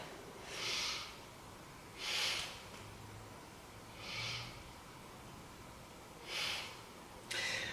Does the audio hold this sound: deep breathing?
yes